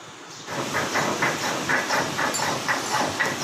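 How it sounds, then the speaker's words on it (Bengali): Radhuni spice is ground by hand on a grinding stone while making vegetable sukto, giving close, steady rhythmic scraping strokes that repeat evenly for several seconds with no speech. "এবার আমি প্রথম বাটবো রাঁধুনি"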